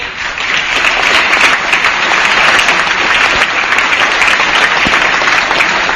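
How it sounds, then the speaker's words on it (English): Legislators and guests in the California State Assembly chamber applaud during the governor's State of the State address, a loud, dense, sustained wash of clapping that holds steady throughout. "I want to see a few Republicans clapping on that, if you could."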